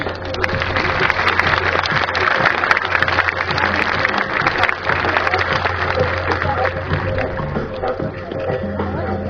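A large audience applauds at a dolphin show in the Planète Sauvage park, with steady, loud clapping sustained throughout and a voice speaking over it through a PA system.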